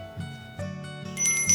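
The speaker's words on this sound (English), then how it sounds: "So now we've got the bell strung on." A small bell strung onto a beaded suncatcher gives light metallic rings and clinks, a few bright tinkles among soft handling taps, close and quiet.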